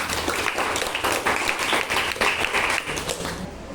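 A class of students claps together after a lesson video, a burst of dense, fairly close hand clapping lasting a few seconds, fading out sharply at the end.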